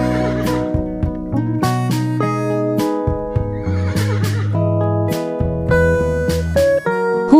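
A horse neighs in a couple of short, rough whinny bursts, heard over prominent melodic background music, with no voices.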